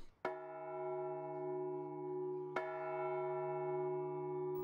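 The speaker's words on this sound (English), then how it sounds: "The bells of St. Sophia's Cathedral sound right next door to Tatiana's workshop." Two deep bell strikes from St. Sophia's Cathedral in Novgorod, Russia, ring out close by, each leaving a long, humming resonance that sustains between them.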